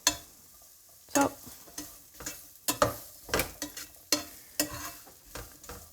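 Garlic, onions and chilies cooking in a pan, a soft sizzle broken by a series of sharp clacks and scrapes from stirring, irregular and close.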